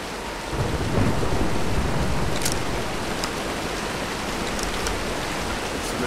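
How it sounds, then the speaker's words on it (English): Thunderstorm with heavy rain in the video game Tomb Raider: a dense, loud, continuous roar of rainfall with a rumble of thunder and scattered sharp drops, with no voices. "Nah, let's wait out the storm."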